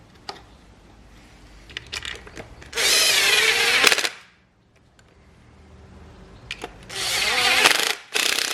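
A power drill spins a wire brush against rusty brake discs from an Audi TT, two loud bursts of harsh scrubbing separated by quieter clicks and handling noise.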